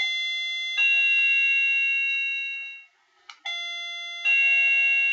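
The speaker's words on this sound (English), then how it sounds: "we're going to use the newer Hampton Bay doorbell first" A Hampton Bay doorbell sounds two sustained, bright electronic chime tones, each ringing out and slowly decaying before a brief gap, then striking again, loud and clear with no talking.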